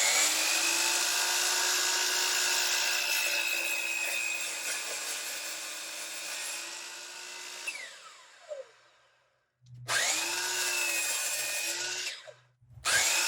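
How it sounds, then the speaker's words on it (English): A Next Wave Piranha FX CNC machine mills walnut and white oak with a loud steady high whine from the spindle and cutter, then stops, restarts and cuts again briefly before a short pause. "This is my first CNC, the Next Way Piranha FX."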